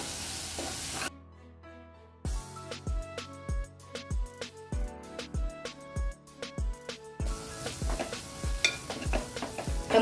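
Onion-garlic masala, red chilli powder and coriander-cumin powder sautéing in oil for chavli batata usal, with a sharp burst of sizzle followed by a run of regular metallic spoon taps and scrapes against the pan, close and clear.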